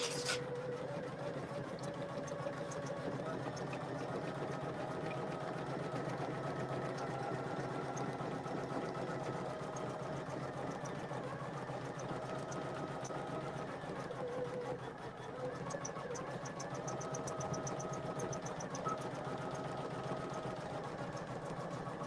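A Poolin single-needle embroidery machine stitches continuously with a steady, fast mechanical whir and a rapid needle chatter, running evenly at close range without talk.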